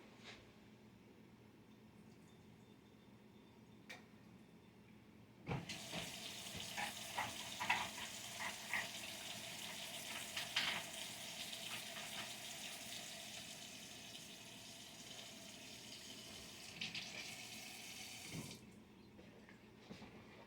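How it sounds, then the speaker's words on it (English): Liquid drains from an opened can of croquettes into a sink, a steady watery wash that starts abruptly partway through, runs for about thirteen seconds at moderate loudness, then stops. "open up this can of croquettes. I'm gonna drain it."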